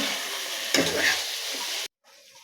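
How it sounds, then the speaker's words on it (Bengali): Boiled goat liver is stir-fried in spice masala, giving a close sizzle with a stirring scrape, then cutting off abruptly into near silence. "এর মধ্যে কলিজাগুলো, সিদ্ধ করা কলিজাগুলো দিয়ে দিলাম। নাড়াচাড়া করে ভালোভাবে কষিয়ে নেব।"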